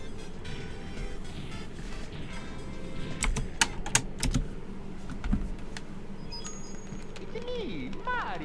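An old, thick computer keyboard knocked to the floor while things are being moved, giving a short burst of sharp plastic clatters and knocks midway, set against steady background room and game noise with a voice now and then.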